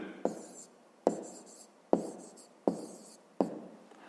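Pen writing an answer in a notebook, five distinct strokes spaced about a second apart, each a sharp scratch that fades quickly, close and fairly quiet with no talking.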